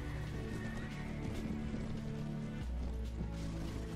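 Horse hooves galloping in the medieval battle game Mount & Blade Warband, a dense, continuous drumming of hoofbeats amid battle noise, loud and sustained, with no talk.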